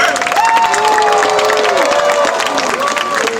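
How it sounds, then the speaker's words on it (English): Audience applause and cheering for a library director at an outdoor Star Wars Day event at Victoria Gardens, a steady dense wash of clapping and shouts with voices rising over it throughout. "I want you guys to give a giant round of applause and a big cheer"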